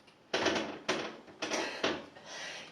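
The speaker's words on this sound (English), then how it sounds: "That bench is so squeaky." A squeaky wooden bench creaks four times in quick, evenly spaced bursts, each loud and close, followed by a softer drawn-out creak.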